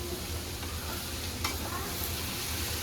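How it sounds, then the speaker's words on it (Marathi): Onion, garlic and curry leaves fry in a pan as they are stirred into a Konkani-style jackfruit vegetable dish, giving a steady close sizzle with soft scraping stirs throughout and no talking. "तो कांदा लसूण कढीपत्ता मस्त तर त्या भाजीमध्ये मिक्स करून घेते"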